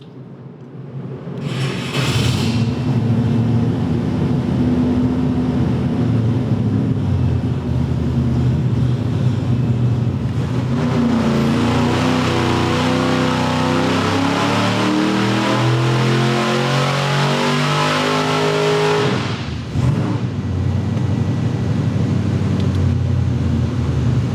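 A Ford engine revs hard through a dyno pull, climbing steadily in pitch over about twenty seconds with a brief lift near the end. It is loud and close, with no talking.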